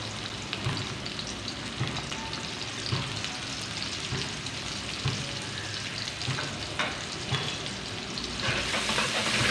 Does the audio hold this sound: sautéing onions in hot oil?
yes